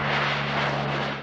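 Search planes fly over the open sea during a rescue mission, a steady loud engine drone with a constant low hum running through the whole short stretch, no voices.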